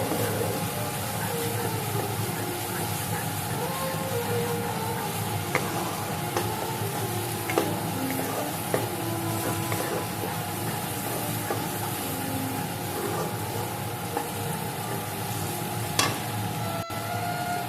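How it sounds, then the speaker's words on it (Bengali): Masala stirred and fried in a pan for paneer curry, a steady close sizzle with a hiss running throughout, broken by occasional soft scrapes and taps of the spoon against the pan. "এটা দিয়েও আমি একটু ভালো করে নাড়াচাড়া করে নেব।"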